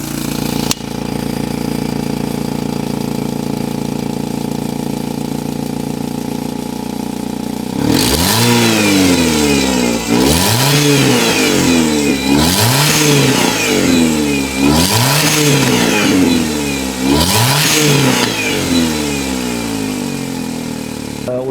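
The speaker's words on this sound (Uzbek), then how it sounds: "O'sha bunda motor yana ham ovozi o'zgargan." A stage 3 tuned car engine with a turbocharger and an aftermarket exhaust manifold idles steadily for several seconds, then is revved hard in about six loud, evenly spaced bursts, each rising and falling back. Close by, with no talking.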